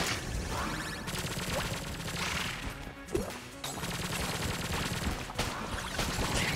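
Dense, continuous video game gunfire and bullet impacts in Enter the Gungeon, with rapid overlapping shots and crashes at steady loudness and a few short dips.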